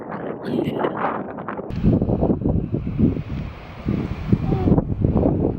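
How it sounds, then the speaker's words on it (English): Outdoor wind gusting against the microphone, a close, rough, rumbling buffet that rises and falls continuously throughout. "So the wind has calmed down a little bit"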